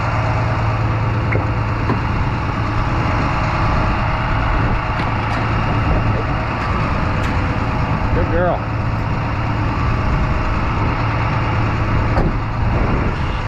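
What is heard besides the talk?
snow plow truck engine idling outside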